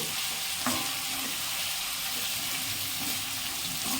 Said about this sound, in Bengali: এবার পেঁয়াজটাকে আমরা হালকা হালকা ব্রাউনিশ রং হওয়ার জন্য একটু নাড়াচাড়া করে নেব